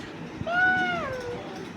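A young child imitates a cat, voicing one drawn-out, rising-then-falling meow, close by and moderately loud, with no other talk.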